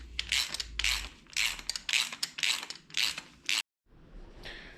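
A ratchet tightens a bolt on a big block engine for a 1967 Chevy, giving about seven rapid clicking bursts in steady rhythm, close and crisp, then a short silence and a faint rustle.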